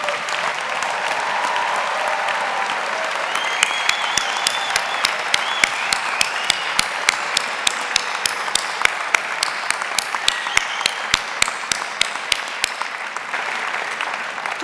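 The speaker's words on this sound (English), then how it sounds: "Graduates, please stand and let's give them a round of applause" Graduates receive a sustained round of applause at a 2022 commencement ceremony, with many hands clapping steadily for about fifteen seconds and a few sharper, closer claps standing out from the dense wash of the crowd.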